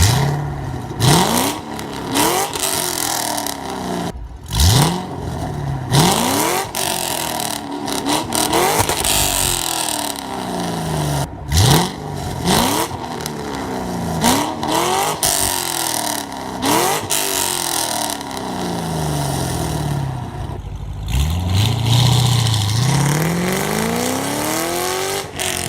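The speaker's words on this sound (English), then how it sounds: "And here are the Corsa Extremes." A Ford Mustang with a Corsa Extreme exhaust is revved again and again in loud, rising sweeps that fall back between pulls, a long run of throttle blips close by.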